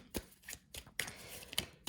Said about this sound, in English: I'm gonna shuffle some tarot to see what they have to say to add to your reading